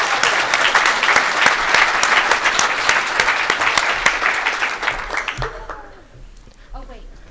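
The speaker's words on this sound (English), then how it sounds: "So a huge round of applause to the Defunct Car Salesman" A conference audience at the BSides DC 2019 closing ceremonies gives a winning team a loud round of applause, dense sustained clapping that fades away near the end, leaving a quiet room.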